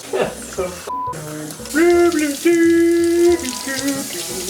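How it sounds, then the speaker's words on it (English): Tap water runs into a natural sausage casing while Italian sausage is made from scratch, a close, steady gushing and splashing at the sink, with a voice talking over it. "putting water through it like this helps remove some of the twists"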